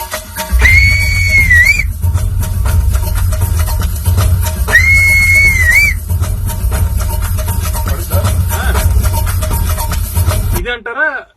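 Whistled melody from the Animal film background score, two sustained wavering whistle phrases over a heavy, loud music bed.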